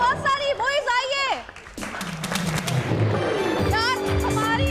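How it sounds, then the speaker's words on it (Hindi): A studio audience claps for a television show's senior producer, a burst of applause rising under the host's lively talk and continuing as she speaks. "हमारे सीनियर प्रोड्यूसर मुइज के लिए तालियां बहुत सारी।"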